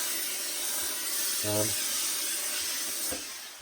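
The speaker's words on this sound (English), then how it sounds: "I'll put a bit of steam in there now so that it sort of freshens it up a little bit" A steamer blows a steady broad hiss into the inside of a black Borsalino fedora hat, continuous and fairly close throughout, with a brief low hum partway through.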